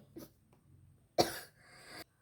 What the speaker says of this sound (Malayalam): ഭയങ്കര ത്രോട്ടിൽ ഭയങ്കര ഡിസ്റ്റർബൻസസ് വന്നു, ഭയങ്കര ചുമയൊക്കെ വന്നു